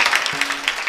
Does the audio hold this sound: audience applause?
yes